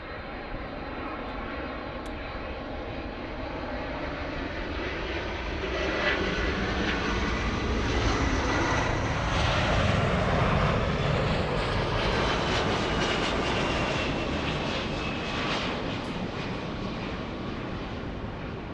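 A Boeing 757 jet at Los Angeles LAX produces a broad engine roar that swells to a peak midway and then slowly recedes, heard alone without voices.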